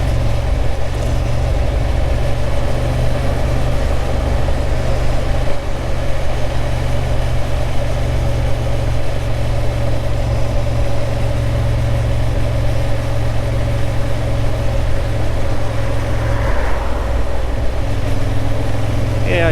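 Engine of a Honda Hornet CB750 motorcycle while riding, a steady low drone with constant wind roar, holding even and close throughout with no talk.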